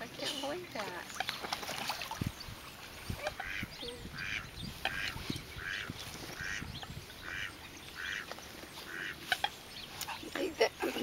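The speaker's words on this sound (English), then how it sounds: "those black ducks have really taken over the mallard ducks" Black ducks and mallards quacking and honking while being fed bread outdoors, with repeated calls at a moderate distance, mixed with people talking.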